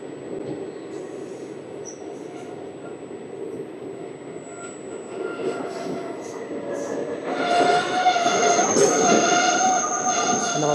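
Simhadri Express 17239 pulling into Annavaram station, with a steady rumble of rail cars and wheels that swells louder and brighter in the last few seconds as the train slows, joined by faint squeals and crowd noise.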